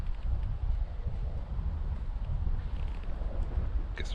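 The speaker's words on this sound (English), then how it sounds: "it's really windy" Wind gusting across the open Quantock hills, buffeting the microphone with loud, uneven low roaring throughout.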